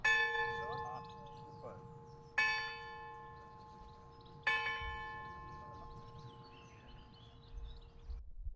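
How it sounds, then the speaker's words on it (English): A bell at Upnor Castle in England rings out in three separate strikes, each a sharp clang followed by a long, shimmering ring that hangs and fades, over a low background hum and faint birdsong. "Now I'm going to show you guys the bell."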